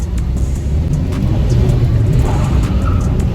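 A stage 1 remapped Vauxhall Insignia 2L diesel accelerates, its engine a steady, heavy low rumble heard from inside the cabin, continuous and fairly loud with no talk over it.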